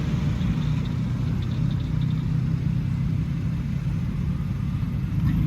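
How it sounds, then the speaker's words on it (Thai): A 2006 Honda City ZX 1.5 V VTEC automatic's engine idles with a soft, even low hum, steady and unbroken, heard fairly close. "เสียงเครื่องเงียบๆครับ"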